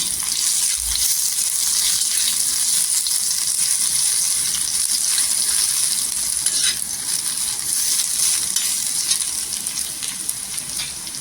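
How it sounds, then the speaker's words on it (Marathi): Garlic crackles in a small amount of hot oil as tempering, giving a loud, continuous, dense sizzling hiss with fine popping that holds steady and close. "लसूण पण इथं तडतडली पाहिजे. पूर्णपणे फोडणीला खमंग बसली पाहिजे."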